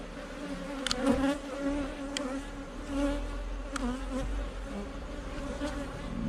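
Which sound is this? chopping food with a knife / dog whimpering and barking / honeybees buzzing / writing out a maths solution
honeybees buzzing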